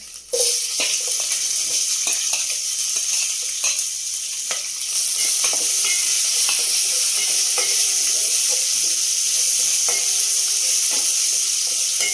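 Continuous loud sizzling of onions frying in hot oil, with occasional stirring clatter throughout.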